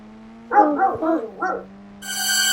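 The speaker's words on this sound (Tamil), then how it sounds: "நாய் கத்துது நாய் கத்துது" A dog in the video game GTA 5 barks about four times in quick succession, fairly close, over a steady low hum, followed by a bright electronic tone.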